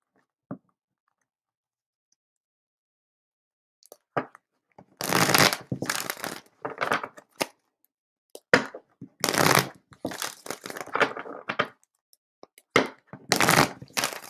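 A deck of playing cards is shuffled by hand repeatedly during a card reading session, close and crisp riffles and bursts of rapid flutter arriving in clusters separated by brief pauses.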